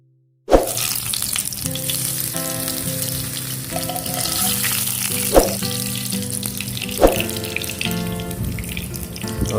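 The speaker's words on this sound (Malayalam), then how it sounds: "ഇട്ട് നന്നായിട്ട് അങ്ങ് ഇളക്കി മൂപ്പിച്ചെടുക്കാം. ആ ഉള്ളിയെല്ലാം ഒന്ന് മൂത്ത് വരണം" Onions and mustard seeds frying in oil for Kerala beetroot kichadi, a steady close sizzle broken by three sharp stirring clanks, with soft tonal music running underneath and no talking.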